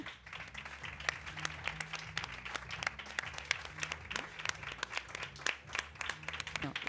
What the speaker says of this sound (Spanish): Voy a pedir un fuerte aplauso para Miki.